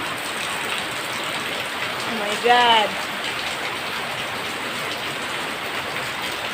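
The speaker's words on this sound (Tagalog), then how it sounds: "Ang lakas ng ulan." Heavy rain pours down in a dense, constant roar, and a person briefly exclaims partway through.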